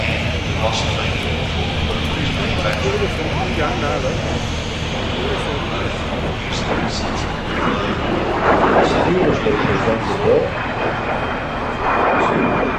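Aircraft engine roar at the Midlands Air Festival airshow, a steady, loud drone lasting throughout and swelling slightly toward the end, with a voice talking over it.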